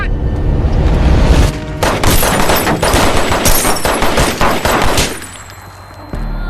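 Rapid gunfire from a police officer in a film scene: a dense, loud burst of overlapping shots lasting several seconds with booming low-end, then fading into a rumbling tail.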